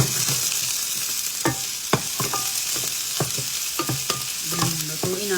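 Salvaged dumpster food, including beef and chicken, being cooked and stirred in a pan: a steady frying hiss broken by repeated scraping and clinking strokes of a utensil against the pan, close up, with no talking.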